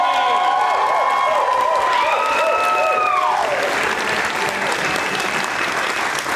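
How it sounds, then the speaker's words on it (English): Audience applause and cheering fill a theater at the end of a PLAYWORKS 2024 play night, dense and sustained for the whole stretch, with whistles and a few voices rising above the clapping. "Let's give one more big round of applause for our PLAYWORKS and Miami Company."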